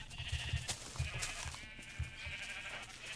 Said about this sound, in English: I'm gonna turn down the sound even more now, because there are sheep everywhere